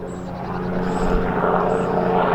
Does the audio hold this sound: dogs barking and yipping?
no